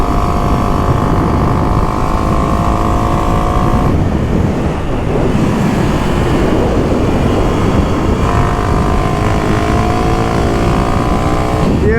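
A 2023 Kawasaki KLX300SM motorcycle being ridden, its engine droning steadily and loudly throughout with shifting pitch and constant wind rush, no voices.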